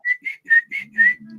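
A person whistles to a dog in five short, bright, rising whistle notes in quick succession, close and clear, with a faint low hum under the last notes.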